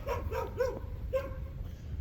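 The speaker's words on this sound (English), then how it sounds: "Uh-oh, here comes one of the dogs." A dog on a daytime riverside walk at Daytona Beach, Florida, gives a few short barks or yips at moderate distance, three quick ones close together then another after a pause, over steady outdoor background noise.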